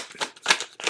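Tarot cards being shuffled by hand, a few quick soft riffling flutters close up, brief and light.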